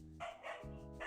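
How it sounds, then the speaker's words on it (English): A dog barks close by, a quick series of sharp harmonic barks in about a second. "Sorry about the dog."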